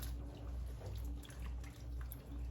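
Fresh garden green beans soaking in a sink or tub of water, with soft drips and light sloshing over a steady low hum, fairly close and moderately loud, no talking.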